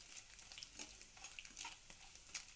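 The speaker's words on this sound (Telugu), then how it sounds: "మునగాకు, టమాటాను ఇలా బ్రౌన్గా వచ్చే వరకు వేపుకోవాలి" Moringa leaves and tomatoes frying in oil in a pan, a steady soft sizzle with scattered crackles and pops, faint and close, no voices.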